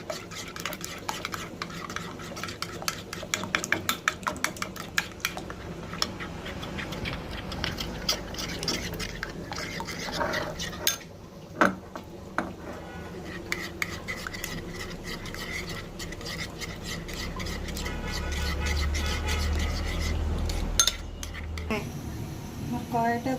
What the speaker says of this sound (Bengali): এখন আমি এগুলো মিক্সার বানাই নেব, ভালোভাবে মিশিয়ে নেব